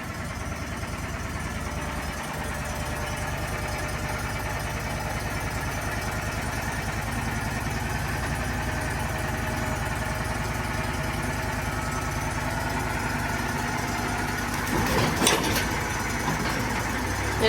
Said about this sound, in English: Let's see if this loader will load this big log.